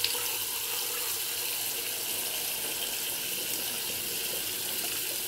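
A bathroom tap runs water that is being warmed up for shaving, a constant close hissing gush that holds even and unbroken for over five seconds without any speech.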